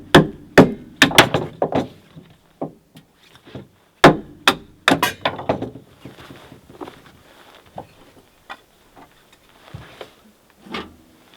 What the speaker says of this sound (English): I'm just going to split a piece of wood and load one more into the stove